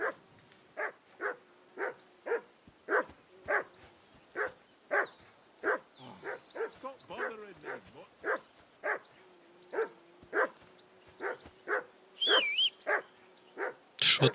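Dog barking in Kingdom Come: Deliverance II, a steady run of loud, evenly spaced barks that goes on throughout, briefly broken by a voice speaking midway.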